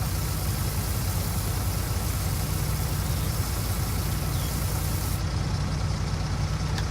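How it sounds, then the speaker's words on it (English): A tractor engine in the Farming Simulator 19 video game runs with a steady, continuous mechanical drone, loud and unbroken throughout, with no speech. "Wait, do I still have the tractor on?"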